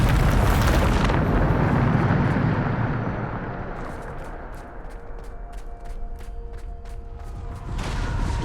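A Bombarda blasting-spell explosion from Hogwarts Legacy opens with a loud, booming blast whose rumble slowly fades into a low ambient drone, with faint ticks and a fresh swell of rumble near the end.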